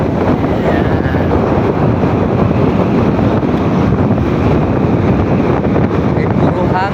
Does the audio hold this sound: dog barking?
no